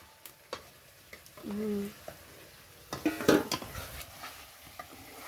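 Meat curry being stirred in a pot, with scraping and clinking of a utensil against the metal sides in scattered bursts over a soft background sizzle, a brief tonal hum in the middle.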